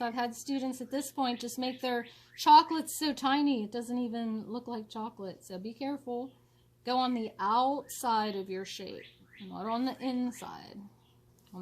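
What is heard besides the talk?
No everyday noises stand out.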